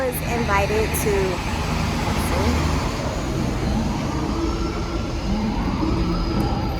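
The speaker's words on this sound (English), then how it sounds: "let me let this loud New York bus go by" A loud New York City bus passes on a city street, its broad engine and road rumble filling the clip steadily from start to finish, with someone talking over the noise.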